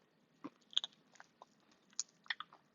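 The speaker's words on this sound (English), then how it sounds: "let's try our wing. It comes out perfectly crunchy, I think." Vietnamese air-fried chicken wing bitten and chewed close up, a sharp crunchy bite followed by scattered crisp chewing crackles in a quiet room.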